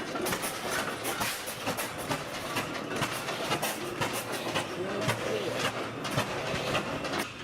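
A steam train rolls along steel rails, its wheels giving a steady clickety-clack over a continuous hissing rumble, heard close and alone with no talk.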